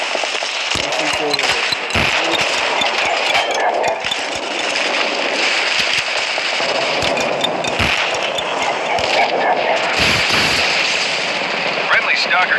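Sniper rifle shots ring out in the mobile shooter Modern Strike Online, sharp repeated cracks over dense in-game combat noise and effects, with a player talking throughout.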